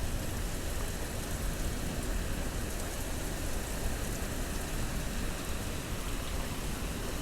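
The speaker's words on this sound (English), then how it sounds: "And it's pouring, absolutely pouring outside." Heavy rain pours steadily outdoors overlooking the sea in a 2005 recording, a dense, even wash of close downpour with no voices.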